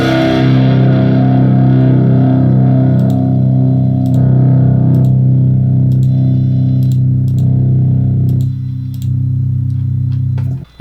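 A heavily distorted electric guitar runs through a Marshall amp plugin, playing a sustained loud chord that rings almost continuously before cutting off, with faint clicks from a keyboard.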